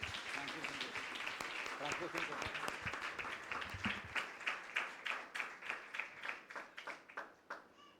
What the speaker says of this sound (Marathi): टाळ्या वाजूयात प्रभूला धन्यवाद द्या.